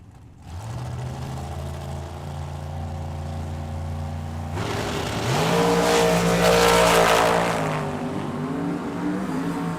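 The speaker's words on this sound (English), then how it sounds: "The big block Chevy powered Firebird" Drag racing cars, a big block Chevy powered Firebird and a Ford powered dragster, idle with a deep steady drone, then roar louder as they rev and launch, the engine noise swelling and fading.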